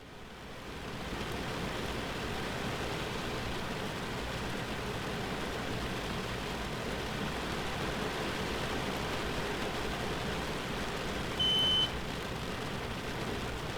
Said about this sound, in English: at least you've had a good 10 minutes of really intensive rain